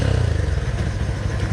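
A modified Xpulse 200 dirt motorcycle fitted with an Akrapovic exhaust revs nearby with a loud, pulsing throaty burble and a few clattering thumps, heard alone without talk.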